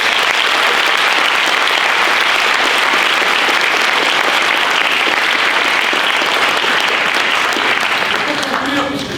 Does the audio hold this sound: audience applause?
yes